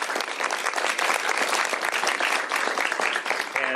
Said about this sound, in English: a round of applause for our prime sponsor for working